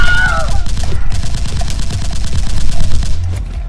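Rapid video-game gunfire rattles in loud, continuous bursts, a dense automatic volley with a short high-pitched effect at the start and no talking over it.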